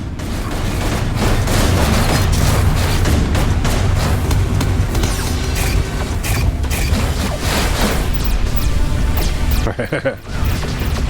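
Torpedoes fire and burst in the space combat game Everspace 2, a loud, dense, continuous barrage of mechanical clatter and booming detonations that fills the scene, with a brief dip near the end.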